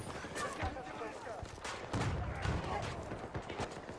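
Gunfire from a video game crackles in scattered bursts of sharp shots, some near and some farther off, while a player talks over the shooting.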